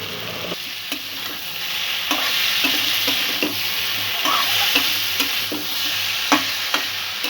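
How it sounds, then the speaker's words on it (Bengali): Sweet potato sautéing with spices and sugar in a pan: a steady broadband sizzle runs throughout, broken by regular scraping stirs of a spatula roughly every half second, close and moderately loud, with no voices. "মশলাগুলো দিয়ে আলুটা কিছুক্ষণ একটু কষে নেব, 3-4 মিনিট।"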